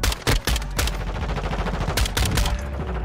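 Fully automatic gunfire in Call of Duty Modern Warfare on PS5, with rapid bursts of shots near and loud at the start, again around the middle and toward the end, over steady game background noise.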